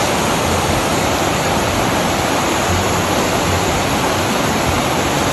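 A calm river flowing past a farm campsite, heard as a steady, loud, continuous rush of water with no voices and no breaks.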